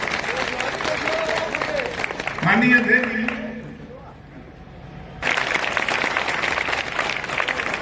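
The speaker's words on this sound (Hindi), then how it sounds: "जोरदार ताली बना के स्वागत करा," Crowd clapping at a political public meeting, a broad wash of applause mixed with an amplified voice that briefly thins out midway before surging back.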